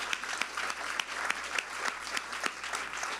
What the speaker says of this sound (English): just give them a little round of applause